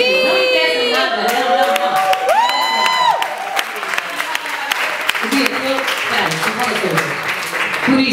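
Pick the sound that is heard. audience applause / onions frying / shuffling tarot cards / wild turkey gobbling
audience applause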